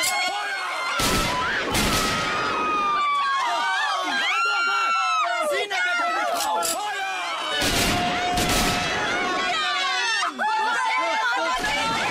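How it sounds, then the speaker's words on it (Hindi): Soldiers open fire in a period film scene about Bhagat Singh: loud bursts of gunfire over a crowd's shouting and screaming, with repeated volleys across the scene and voices throughout. "सिपाही फायर!"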